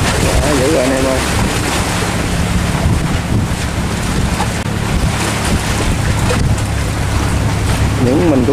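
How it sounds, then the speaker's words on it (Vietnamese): Rough sea waves churn around a large fishing trawler heading out from the port at La Gi, steady loud wash and wind buffeting with a low engine drone and someone talking over it. "Những con sóng rất là nhấp nhô, rất là dữ luôn nha."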